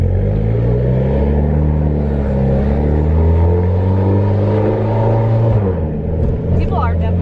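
Mitsubishi Evo 10 with a straight-piped exhaust, open dump downpipe and test pipe, idling and revving with a deep, loud rumble, close by, with people talking over it.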